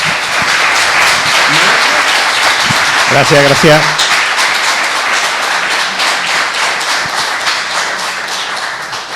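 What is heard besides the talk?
audience applause for a conference speaker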